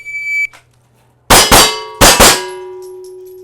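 A shot timer gives a short, steady electronic beep at the start, then, after a pause, four sharp loud gunshot cracks come in two quick pairs, with metallic ringing from struck steel targets lingering after them.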